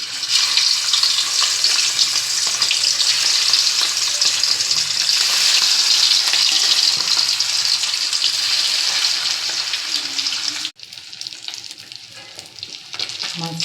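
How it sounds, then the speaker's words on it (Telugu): Fish sizzles loudly and steadily as it fries in hot mustard oil for a fish curry, a dense crackling hiss that briefly cuts out near the end, then resumes slightly quieter. "మస్టర్డ్ ఆయిల్లో ఫిష్ ఇలా ఫ్రై అవ్వాలండి, డ్రైగా."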